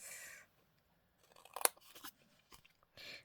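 Scissors trimming craft material for a small grungy bedroom scene: a few close, crisp snips and crunching cuts, separated by short quiet gaps, with no voice.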